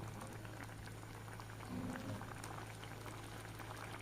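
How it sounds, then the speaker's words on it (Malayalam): Soft, steady bubbling of egg curry boiling in a pot, quiet and close, with no voices. "ഇനി ഒന്ന് തിളച്ച് വരുത്താം"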